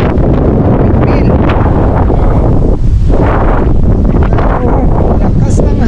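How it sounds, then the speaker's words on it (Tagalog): Strong wind buffets the microphone on an open hillside campsite near windmills, a loud, continuous roar filling the whole stretch without letup. "Oh, lakas ng hangin."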